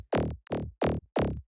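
A wide unison synth patch, the third layer of a drum and bass bootleg, plays four separate full, bright stabs of similar length in an even rhythm, with short gaps between them.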